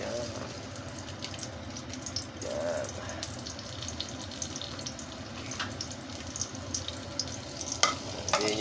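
Garlic sautés in a pan for adobo with kangkong. There is a moderate, fairly close sizzle with irregular clinks and stirring, mixed with watery splashing.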